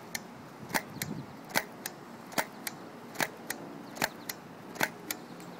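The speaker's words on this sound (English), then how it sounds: "here we are, stock Streamlines out of the dart tag blaster." A Nerf Dart Tag blaster shoots stock Streamline foam darts in a quick string of faint, sharp pops and clicks, roughly a dozen in a loose, uneven rhythm over a low background hiss.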